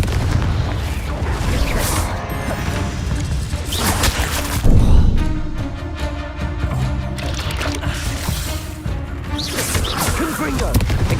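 Repeated Confringo blasting-spell explosions in the video game Hogwarts Legacy, loud booming bursts and crashes over several seconds amid busy game noise, with a voice calling out the spell.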